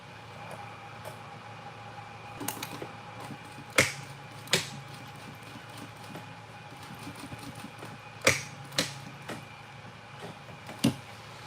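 A sewing machine stitches quilting lines across fabric, its low mechanical whir running steadily, broken by a few sharp clicks and knocks as the quilt is shifted.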